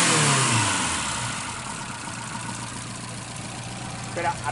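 A 1981 Ford Capri 2.0 S engine runs steadily at close range, with a brief rise in revs near the end.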